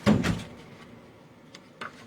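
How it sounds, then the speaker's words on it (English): A door opens indoors with a sharp thump and a rattling scrape at the start, then quieter fainter knocks and a small clunk near the end, close by with no speech over it. "I opened the door."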